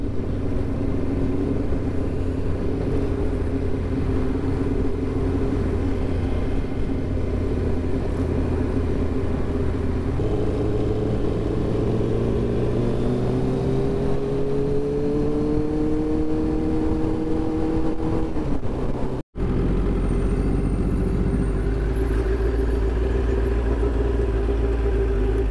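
A Kawasaki ZX9R Ninja motorcycle pulls away in traffic, its engine droning steadily and then rising in pitch as it accelerates, with a constant rumble of road and wind noise and a brief dropout near the end.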